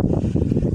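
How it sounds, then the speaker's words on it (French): Wind blowing outdoors in a garden, a steady low rumbling buffet against the microphone with gusty surges throughout, loud and close, with no talking. "Désolé pour le vent. Là je peux rien faire."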